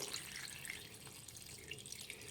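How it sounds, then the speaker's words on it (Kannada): A thin stream of water runs and splashes steadily for a couple of seconds, quiet and close, as water is poured from a glass into a cooking pan of chicken. "ಒಂದು ಸ್ವಲ್ಪ ನೀರು ಹಾಕ್ಕೊಳ್ಳಿ"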